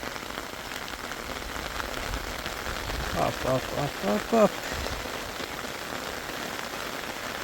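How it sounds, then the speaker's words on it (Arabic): Heavy rain pours down in an orchard during a fruit harvest, a loud steady hiss and patter filling the whole stretch, while a man calls out a few short words partway through. "الشتا خيط من السما."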